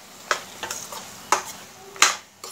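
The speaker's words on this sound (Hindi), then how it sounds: "इसमें हम हमारे फ्रोजन पीस डालेंगे" Frozen peas stirred into simmering baingan bharta, a soft sizzle broken by four or five sharp spoon scrapes in an uneven rhythm, close and fairly quiet.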